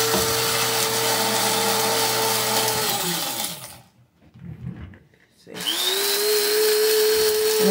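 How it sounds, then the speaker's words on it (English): Coffee grinder pulverizing dehydrated mushrooms into powder, a steady loud whirring motor that is released and spins down, pauses briefly, then starts again and runs on at full speed. "you can put it right in a coffee grinder or whatever you had that blend stuff well"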